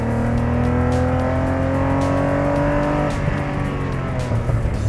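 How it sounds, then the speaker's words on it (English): An Alfa Romeo car engine revving on a race track, a steady loud drone with rising pitch as it accelerates, dipping briefly before climbing again, heard from inside the car with no talking. "Let's give it some gas. Let's rev it a bit, see what happens."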